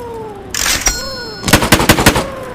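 Rapid bursts of gunfire in a video game, loud and close, with a sharp cluster of shots followed by a quick run of repeated automatic-sounding reports over faint background game noise.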